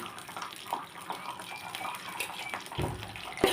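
Cashew nuts sizzle and crackle in hot ghee in a pan while sweet pongal made with coconut milk is being prepared, a steady hiss with a few sharper pops and no voices.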